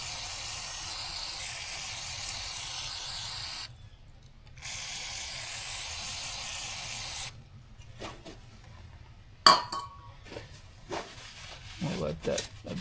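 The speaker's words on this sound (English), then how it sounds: "I'm just going to take some brake parts cleaner" Aerosol brake parts cleaner bursts hiss loudly in long continuous blasts with short pauses during an oil change on a 2009 KTM 300XC-W dirt bike, followed by quieter clinks and handling noises.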